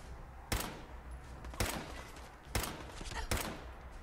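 Enemy gunfire from a Fallout 4 battle against raiders at the Corvega assembly plant, with four loud, sharp bursts spaced about a second apart over a low background rumble.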